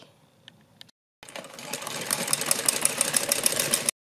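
A sewing machine stitches a folded seam on a top made from an old shawl, starting after a few faint clicks and a brief silence, then whirring steadily and close for nearly three seconds before cutting off.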